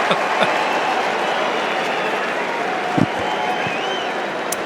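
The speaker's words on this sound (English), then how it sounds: "The crowd love it" Crowd noise at an AFL football match between the West Coast Eagles and Geelong, a broad steady roar and murmur of spectators with a brief sharp thump partway through, under a commentator's voice.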